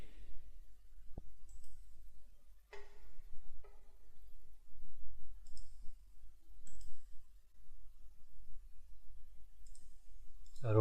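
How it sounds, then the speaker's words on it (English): A computer mouse gives a few sparse, faint clicks in a quiet room while a simulation model is built in MATLAB, with one sharper click near the end. "so I will right click and drag it"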